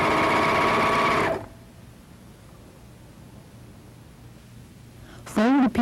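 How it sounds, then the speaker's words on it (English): Serger overlock machine running at a steady whir for just over a second as it sews a thread chain, close and fairly loud, then falling to quiet room tone before a brief burst of voice at the end. "Begin by stepping on the foot control to sew a chain, testing the formation of your stitch."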